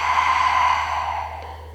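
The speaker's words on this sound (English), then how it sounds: "I'm always breathing in through my nose and out through my mouth" A long, soft exhale through the mouth during a hypopressive breathing exercise, close to the microphone, steady and gradually fading over nearly two seconds with no speech.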